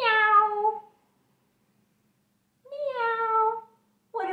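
A voice imitates a cat with two drawn-out meows separated by a pause, and a third starts at the end. The meows are close and clear.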